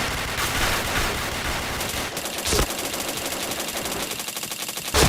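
Rapid automatic gunfire rattles loudly and almost nonstop from a video game shooter, dense bursts with short breaks and a sharp final shot, with no voices.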